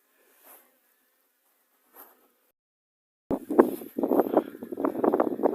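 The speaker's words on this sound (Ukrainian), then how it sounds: "А бджоли літають тут і, і в інших вуликах." Honeybees buzzing close by in flight at an apiary after April snow, a few faint passes followed by a louder, sustained droning hum.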